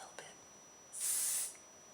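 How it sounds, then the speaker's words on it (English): Chanel hair spray misted onto dry styled hair, one bright hissing burst of about half a second, quiet and close, after a small click. "I sprayed it in. It's a fine spray."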